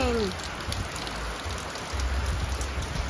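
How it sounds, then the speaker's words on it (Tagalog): Heavy rain pours down steadily with a dense, constant hiss of drops hitting surfaces nearby, and a brief tonal sound at the start. "It's raining, man."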